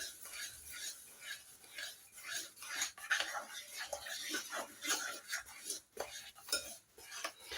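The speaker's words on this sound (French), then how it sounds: "on continue à mélanger tout doucement avec le couteau" A knife gently mixing salted pizza dough in a bowl, producing soft irregular scraping and clinking taps against the bowl, fairly quiet and close, with no talking.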